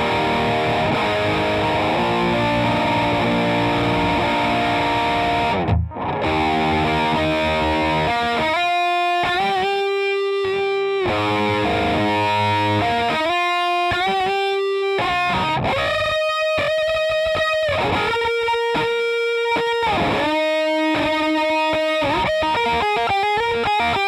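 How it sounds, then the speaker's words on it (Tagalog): Electric guitar played through a distortion pedal with no Cube Baby preamp boost, heard alone: a dense, gritty wash of chords at first, then a short pause and a run of choppy, stabbed notes and riffs with clear sustained tones between them. "ganito muna yung tunog ng distortion na walang boost galing sa Cube Baby."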